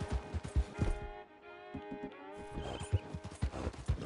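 Horse in a video game clip-clopping on the ground with quick, irregular hoof thuds, broken midway by a loud, drawn-out whinny, close and clear, with no one speaking.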